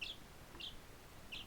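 A pet bird gives three short, bright chirps spaced about half a second apart, faint and set against a quiet room hum.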